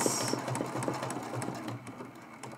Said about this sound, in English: going to do a little running stitch and stitch this down while we're right here like that